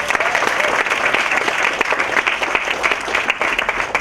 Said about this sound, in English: Round of applause for Zita,